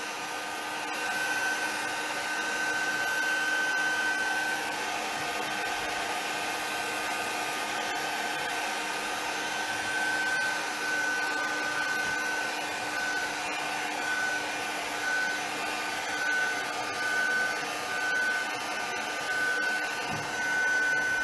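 A heat tool blows a steady, loud stream of air for the whole stretch, drying freshly coloured galaxy cards made with ColorSparx and Stardust Butter, with a faint whine riding over the continuous rush.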